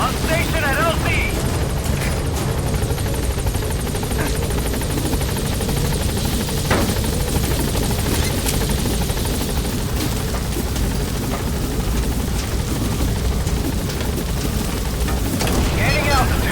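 A helicopter in the game Metal Gear Solid V lands and takes off, its rotor wash a constant loud roar throughout, with radio voices talking over it.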